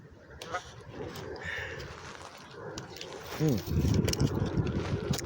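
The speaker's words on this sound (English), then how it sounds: "And a lot of geese" Geese honk a few times in the open air over wind and engine rumble on a hot summer day, with a voice talking over them.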